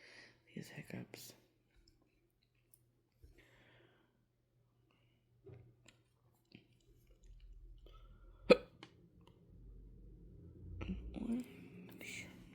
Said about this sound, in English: Oh my goodness. These hiccups.